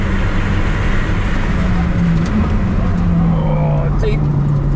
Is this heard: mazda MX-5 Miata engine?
yes